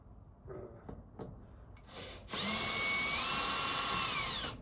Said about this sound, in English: remove the screws along 3 edges, but leave the bottom edge.